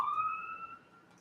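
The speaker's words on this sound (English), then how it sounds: "there go the sirens" A brief, faint rising siren tone sounds and fades within about a second.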